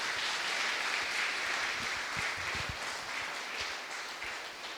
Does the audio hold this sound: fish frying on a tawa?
no